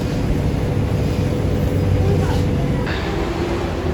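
A constant low rumble and hum of a moving MRT metro train in Bangkok, with faint rattles and a brief high whine passing through.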